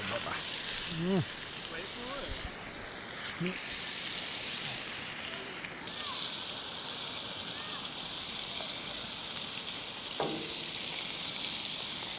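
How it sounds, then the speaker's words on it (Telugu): Village-style chicken sizzles and fries steadily in a pan, a dense continuous crackle throughout, with a few voices and exclamations breaking in near the start and again briefly later. "ఇదిగో మన ఫ్రై అయితే అవుతుంది."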